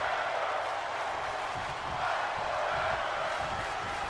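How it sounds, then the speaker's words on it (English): A video-game wrestling crowd in Madison Square Garden, from WWE 2K22, roars in a steady, dense wash of cheering fans that holds at an even, fairly loud level throughout. "You can hear the fans most certainly appreciating the efforts of both men in this contest"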